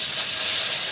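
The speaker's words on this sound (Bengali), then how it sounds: "মাছটাকে ভেজে নিচ্ছি।" Hilsa fish fries in hot oil with a short, steady, close-up sizzle and no talk.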